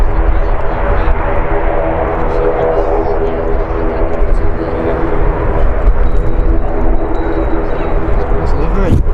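Airliner taking off at Manchester Airport, a steady loud broadband engine roar that holds throughout, with people talking over it.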